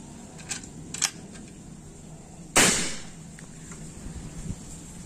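A single sharp shot from a folding 4000 psi PCP air rifle with a 50 cm barrel cracks out once, crisp and fairly close, with a quick decay, against a low background hum and a few faint clicks.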